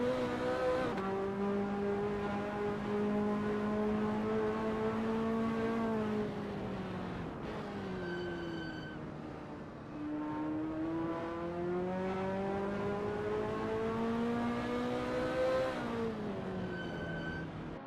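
A Ferrari F40 race car in a racing video game at Donington Park, its engine droning loudly and continuously, the pitch climbing and falling with each gear change and briefly easing off midway, with no talking.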